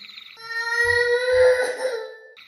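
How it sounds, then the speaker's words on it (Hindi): A child crying in a horror story: one sustained, wavering wail with a bright harmonic tone lasting about two seconds, loud and close, with a brief low thump underneath and faint breathy sounds at either end. "उसे बस की आखिरी सीट पर किसी बच्चे के रोने की आवाज़ आने लगी।"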